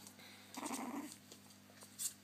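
A puppy gives one brief low growl, a soft rumbling burst lasting about half a second, faint and close over a quiet hum, followed by a small sharper sound.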